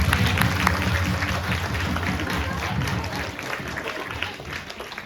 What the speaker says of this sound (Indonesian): Tepuk tangan untuk Tuhan Yesus dong